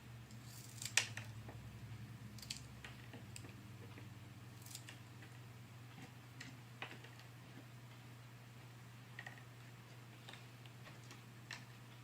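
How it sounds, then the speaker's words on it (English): Scissors trimming stray glue webs on a craft project, a faint, sparse series of quiet snips and ticks scattered across a still background, no talking. "Glue webs, not cobwebs. Just trim them down."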